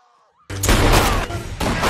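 Gunfire in the horror comedy Tucker & Dale vs. Evil erupts suddenly after near silence. A loud, sustained volley of shots blasts apart a cabin and keeps pounding until the end.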